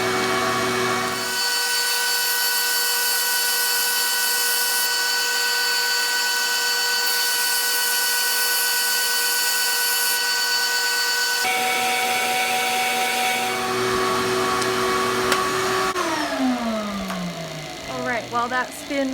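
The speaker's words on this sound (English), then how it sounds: "All right, sander on." An electric sander runs alongside a dust collector with a loud steady whine and roar, one machine switching off partway through and spinning down with a falling pitch near the end, with brief talk.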